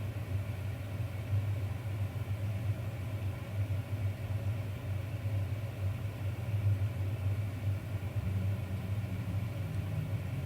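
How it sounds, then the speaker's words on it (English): A motorcycle rumbles steadily outside, a low continuous engine drone that holds at an even level throughout with no clear approach or fade. "there's our friend outside on the motorcycle"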